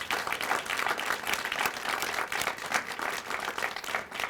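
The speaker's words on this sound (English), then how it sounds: "Please give them a big round of applause." Audience applauding at a Head Start ribbon cutting ceremony, a dense, steady burst of many hands clapping that fills the space without any talking.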